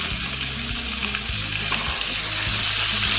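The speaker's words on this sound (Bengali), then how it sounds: "তেলটা গরম হয়ে গেলে আলুগুলোকে লাল লাল করে ভেজে নেব।" Potatoes fry in hot oil with a loud, dense, continuous sizzle that holds steady from start to end, with faint low clatter beneath it.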